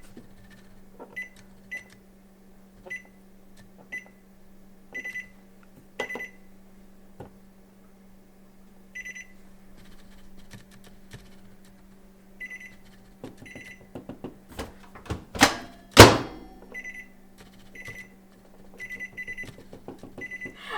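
Short electronic beeps from a home microwave oven's keypad sound at irregular intervals as buttons are pressed, with a louder cluster of tones near the end over a low steady hum.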